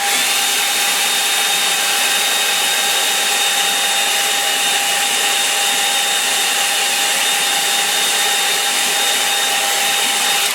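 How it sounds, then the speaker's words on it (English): Hair dryer blowing steadily to dry a watercolour line-and-wash painting, a loud, continuous close whir with a fixed whine, running alone throughout. "I'll just dry it. Take your headphones off."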